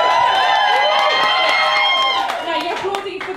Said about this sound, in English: Now, you're applauding for the wrong reasons.